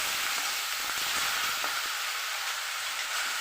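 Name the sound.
onion paste frying in a pan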